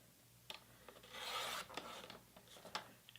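A paper trimmer slices diagonally across a sheet, giving a soft, close scraping rasp with a few small clicks, faint and quiet with no talk.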